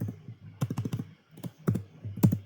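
Computer keyboard typing in irregular bursts of clicky keystrokes with short pauses between words, close and moderately loud.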